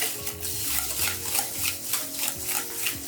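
Whisking yogurt into a wet vegan chocolate cupcake batter in a bowl, a steady scraping, stirring swish repeating in quick strokes, close by, with a low hum of music or background underneath.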